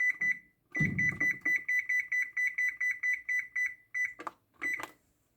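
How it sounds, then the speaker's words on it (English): An oven timer beeps as it is set, a quick regular run of bright electronic beeps, then a pause and a few separate beeps, close and loud with no talking. "So I'll have to put the timer on for 18 minutes."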